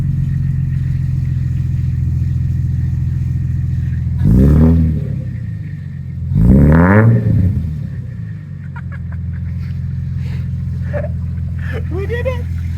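A worn, rough-condition Lexus IS300 engine idles steadily and close, rising in two quick revs before settling back to idle, with faint voices toward the end.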